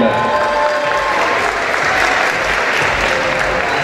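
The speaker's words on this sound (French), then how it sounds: "Applaudissements pour elle." Sustained audience applause at a beauty pageant evening as the second candidate steps up, a dense, steady wash of many hands clapping throughout at constant loudness with a faint crowd murmur.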